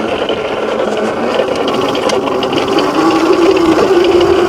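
A Qwayq EM40 electric dirt bike ridden hard along a twisty wooded off-road trail, giving a steady loud whir and rattling chassis noise with a rising tone toward the end, continuous and close, with no voices.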